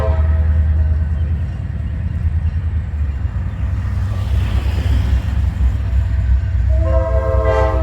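A heavy freight train hauling empty cement hoppers behind classic EMD locomotives on the Maryland Midland Railway rumbles steadily past at close range, loud and continuous, with a brief horn-like tone rising near the end.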